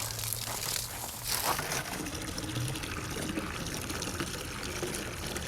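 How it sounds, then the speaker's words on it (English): Water running from a garden hose outdoors, a close, steady rushing and splashing stream with some crinkling handling noise. "Hose has been sitting in the sun all morning."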